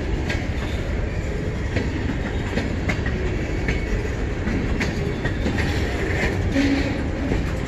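An eastbound freight train starts moving, heard up close as a steady heavy rumble with rhythmic clanking of cars and wheels.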